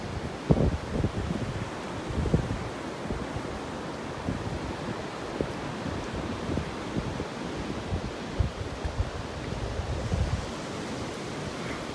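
Ocean waves wash onto a beach in North Naples, Florida, on a breezy morning, a steady rushing surf with repeated soft crashes and wind buffeting the microphone.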